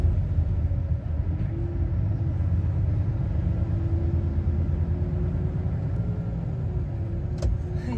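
A truck driving along a road toward an industrial zone, giving a steady, loud engine rumble and road noise that holds evenly throughout with no break.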